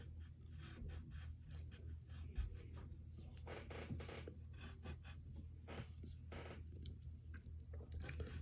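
Pencil sketching a hand on paper, soft close scratches and strokes coming in short repeated bursts, very quiet throughout.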